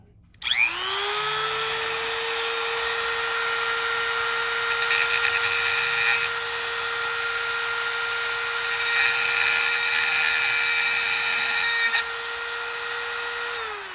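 A high-speed rotary tool with a soft sanding bit spins up and whines steadily for several seconds, pitch holding constant as it grinds against a 44mm Apple Watch Series 5 during screen replacement, then winds down.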